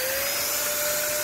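A Hawkforce electric spray gun set to a fine jet gives a steady, loud motor whine with a broad airy hiss, continuous and unchanging throughout, with no voices.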